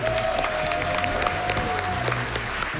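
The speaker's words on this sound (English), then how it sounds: "Can we get a round of applause for them?" Steady applause from a crowd at a speedrunning charity marathon event, dense clapping sustained throughout, with some cheering mixed in.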